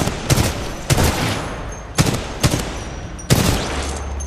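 Bursts of gunfire ring out in the Titanfall 2 campaign, four sharp volleys spaced about a second apart, loud and close, with a low hum at the end and no talking.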